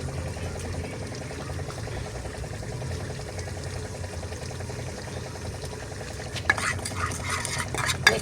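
A spoon stirs masala and lemon juice into a paste in a bowl, making soft, continuous wet scraping and mixing sounds close by, with sharper clinks toward the end.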